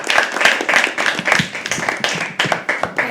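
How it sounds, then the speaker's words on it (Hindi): An audience at a live poetry open mic at The Habitat claps steadily and loudly, a dense, uneven patter of many hands close by. "तालियां तब तक बजती रही जब तक पूजा स्टेज पे पहुंच नहीं जाती।"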